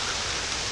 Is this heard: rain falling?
yes